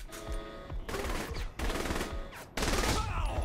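Gunfire in the Saints Row the Third video game: loud bursts of rapid automatic shots in three dense volleys, each starting abruptly and growing heavier toward the end, with no speech.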